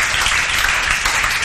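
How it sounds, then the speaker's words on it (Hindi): Classroom of students giving loud, dense applause, a continuous close wash of many clapping hands with no talk over it. "विजय श्री सिंह बजा बजा दीदी के लिए जोरदार तालियां"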